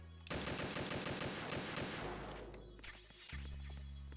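Rapid automatic gunfire in Metal Gear Solid 2, a loud burst of evenly spaced shots that runs about two seconds, then a rattling tail of clatter and echo before quieter game ambience returns.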